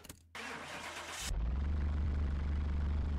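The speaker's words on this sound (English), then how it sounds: "let's get this one started and see what she sounds like with their i4 engine" A Pontiac GTO fitted with an i4 engine in a car mechanic video game cranks with a brief starter whir, then fires and settles into a loud, fast, steady idle, alone without voices.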